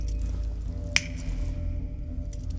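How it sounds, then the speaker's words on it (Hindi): A single sharp finger snap rings out once, close and crisp, over a steady low background hum with no talk. "तू चुटकी क्यों बजा रहा है?"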